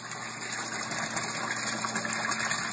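Water pumped from a sump pours into a leveled PVC aquaponics fish tank, a steady close rushing and splashing with a faint pump hum, continuous and even throughout.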